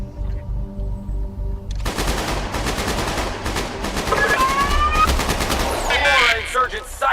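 Rapid automatic gunfire in the video game Ghost Recon, several sustained bursts of dense, loud shots following a quiet stretch, with spent-casing pings and echoes ringing through the barrage.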